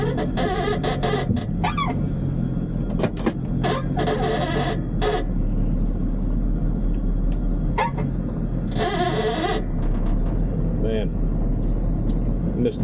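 An old Chevrolet squarebody 4x4 pickup engine runs steadily with a continuous low rumble throughout, close by, while people talk intermittently over it.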